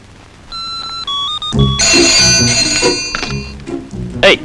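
A telephone rings in a film love-proposal scene, a few short electronic tones first, then a loud burst of music and effects swells over it.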